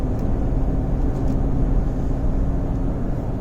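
Steady low engine and road drone inside a Mahindra Bolero Neo cruising at about 70 in fourth gear on cruise control, an even, continuous rumble with tire noise and no breaks.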